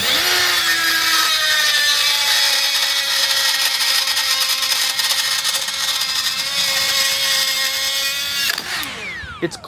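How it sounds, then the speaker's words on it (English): A Hercules right angle die grinder grinds metal tubing, a loud, steady high-pitched whine that holds for about nine seconds, then cuts off and spins down near the end. "This is actually the first time I'll be grinding metal with this one."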